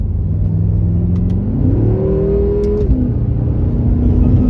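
A tuned 600hp BMW F10 M5 engine revs up through the gears, its pitch climbing, dropping at a shift, then rising again. The loud, steady roar comes from inside the car.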